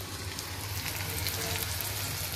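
Ridge gourd and beetroot curry sizzling in a small mini wok, a steady close frying crackle with light patter and a low background hum throughout.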